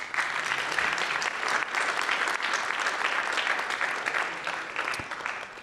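An audience claps for the speakers at a physics fellowship symposium. Steady, dense applause fills the hall from start to finish at an even level.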